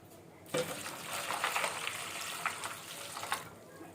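Water pours steadily into a cooking pot over meal maker soya chunks for a few seconds, a splashing gush that starts abruptly and stops near the end.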